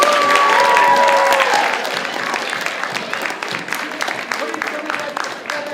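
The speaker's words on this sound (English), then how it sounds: "Let's give yourselves a round of applause." A school audience at a Macbeth Bardathon theater event applauds, dense steady clapping that is loudest at first and then eases slightly while continuing throughout, with a few faint whistles near the start.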